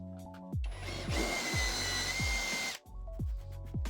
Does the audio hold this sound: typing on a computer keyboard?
no